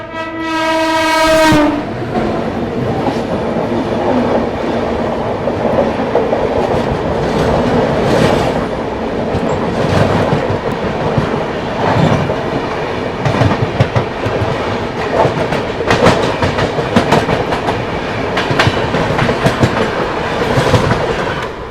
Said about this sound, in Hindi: बाकी अभी अपनी ट्रेन एक घाट सेक्शन में चल रही है